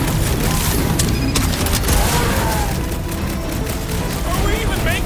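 Rapid gunfire in a Guardians of the Galaxy video game battle against a dragon, with dense bursts of shots, booms and crashes packed together, loud and continuous, while voices shout over the fighting.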